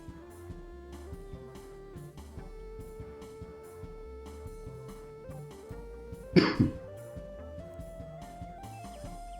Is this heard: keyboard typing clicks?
no